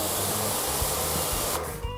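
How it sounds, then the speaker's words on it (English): An MJJC short trigger gun on a pressure washer sprays water sideways through a flexible nozzle while washing a car, a steady close hissing rush that holds for two seconds and shifts slightly near the end. "So you can spray the water sideways like this."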